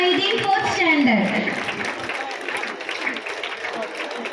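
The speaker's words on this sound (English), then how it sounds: "Clap your hands." An audience at a school annual-day ceremony claps, the applause swelling briefly and then continuing as a dense, moderately loud patter while a voice speaks over it at the start.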